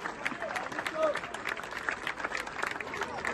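A large crowd at a Genoa football club festa in Moena applauds, steady dense clapping with scattered cheers throughout, loud and continuous.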